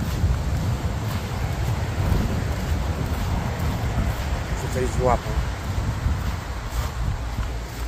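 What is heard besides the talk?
wind as a thunderstorm approaches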